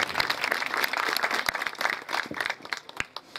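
An audience at a speech by an organisation president in Talwandi Musa applauds a donation, a steady wash of many hands clapping with scattered sharper claps, moderately distant and without talk.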